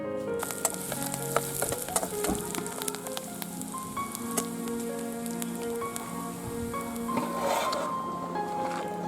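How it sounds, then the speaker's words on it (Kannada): A small amount of oil heats on a tawa for tempering a tripe curry, a steady, moderate sizzle and crackle with occasional stirring sounds and faint tonal sounds in the background. "ಸ್ವಲ್ಪ ಒಗ್ಗರಣೆ ಮಾಡ್ಕೊಳ್ಳೋಣ ನಾವು"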